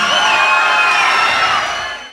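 Loud crowd cheering at an award ceremony as the best actress winner comes up to the stage, a dense roar that fades away near the end.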